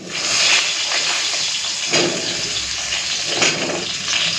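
Eggplant hits hot oil already holding fried black cumin, setting off a loud, steady, close sizzle that hisses continuously with a few brief swells, no talk over it.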